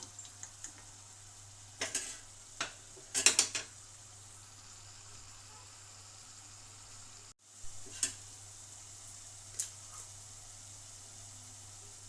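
Cashews cook in a pan for tomato rice under a faint steady sizzle, broken by a few sharp clinks of a spoon against the pan.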